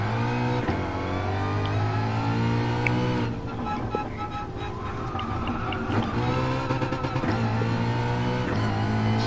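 Race car engine in a racing game, revving high toward the red line with a steady harmonic drone and brief pitch drops at each shift, loud and continuous with no talking.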